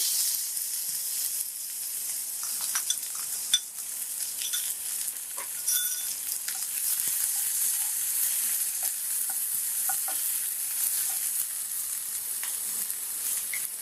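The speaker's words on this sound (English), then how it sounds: "In a pan I have heated 2 tablespoons of oil. Now to this oil I am going to add this chopped onion" Chopped onion sizzling in two tablespoons of hot oil in a pan while cooking keema naan, a steady, close hiss of frying with occasional small clinks and stirring sounds, no talk.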